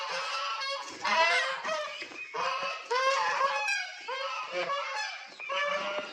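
Ducklings and free-range village hens let out of their coop at a farm, a near flock of honking and squawking calls overlapping continuously.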